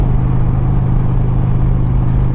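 A Harley-Davidson Road King with loud aftermarket exhaust pipes idles close by in a deep, steady, throbbing rumble with an even pulse, loud and without voices.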